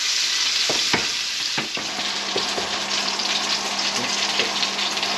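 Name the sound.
fish fillet pan-frying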